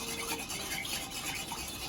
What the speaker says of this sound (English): just gonna stir this Rob Roy